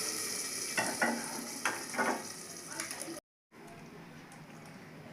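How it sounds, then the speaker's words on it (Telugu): Hot tempering is poured into cooked dal with fenugreek leaves and sizzles briefly, then a quick bright crackle is followed by a clunk and a pause as a lid goes on. Afterward a faint quiet hiss remains. "పోపు అయితే బాగా ఎరగింది కదండి, నేను పప్పులో వేసేస్తున్నాను."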